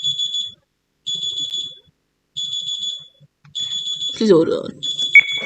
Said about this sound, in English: someone's alarm was ringing